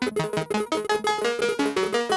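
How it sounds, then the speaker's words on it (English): A Bastl Basil stereo delay looping with a lo-fi low-pass filter, repeating tonal synth notes in a steady rhythmic pattern with soft, filtered echoes, no voice. "now you can hear that delay looping in the background"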